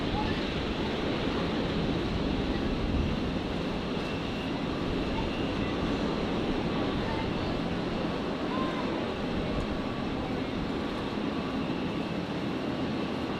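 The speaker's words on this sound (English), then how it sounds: "Looks like we just caught the touchdown." A large airliner landing on runway 01 left at Brisbane Airport after a long-haul flight, heard as a steady, loud broadband roar that fills the whole stretch evenly without distinct peaks.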